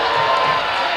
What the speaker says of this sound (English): Crowd doesn't like the call, as you can hear